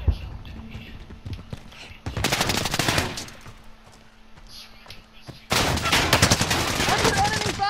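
Video game gunfire in a multiplayer shooter match: two long bursts of rapid automatic fire separated by quieter stretches with scattered single shots, loud and close, with faint voices in the background.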